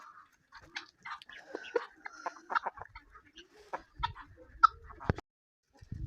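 Hens cluck and chatter in irregular bursts, fairly close, with scattered sharper calls and a few thumps and rustles between them.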